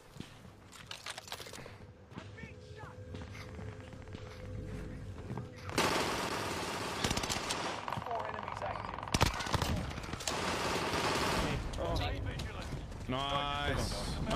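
A UMG gun fires in an online shooter video game, with bursts of rapid automatic fire and sustained gunfire in the second half, loud and up close, while players talk over it.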